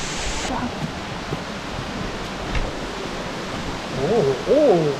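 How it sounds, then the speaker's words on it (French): Waterfalls along a hiking trail in the Blue Mountains give a constant, even rush of falling water, with someone speaking briefly near the end. "on passe sous les cascades bientôt là"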